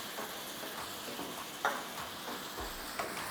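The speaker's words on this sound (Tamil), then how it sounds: "இது ஒரு முறை நல்லா கிளறி விட்டுக்கோங்க." Soft scraping and stirring of prawns with turmeric and chilli powder masala frying in a pan over a steady sizzle, with a few sharper clicks of a utensil against metal.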